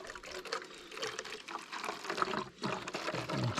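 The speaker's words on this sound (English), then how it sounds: "I'm going to fill this about halfway up with distilled white vinegar" Distilled white vinegar is poured through an old bottle cap used as a funnel into a bottle. The liquid trickles and gurgles close by at a low, continuous level with small splashes.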